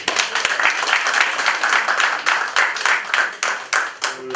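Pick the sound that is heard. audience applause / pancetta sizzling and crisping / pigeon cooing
audience applause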